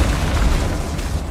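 Spell explosions from Bombarda and Confringo in the video game Hogwarts Legacy, a dense, rumbling boom sustained loudly and close throughout without a break.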